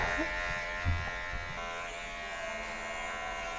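Buzzing of an electric shaver during a first-time shave in army barracks, a steady close hum lasting throughout with slight variations.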